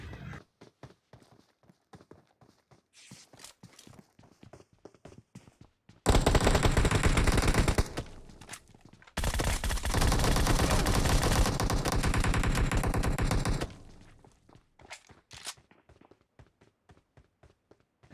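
Gunfire from a fight in a mobile battle royale game played on a Snapdragon 660 phone: two long, loud bursts of rapid automatic shots, separated and bracketed by scattered lighter single shots and taps.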